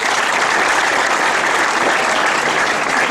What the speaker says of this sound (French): Alors, applaudissez pour vous-même.